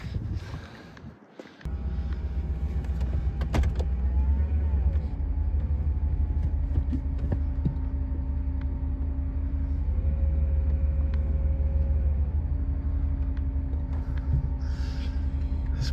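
A truck starts off after a brief quiet moment and drives along with a steady low engine rumble and road noise, close and continuous.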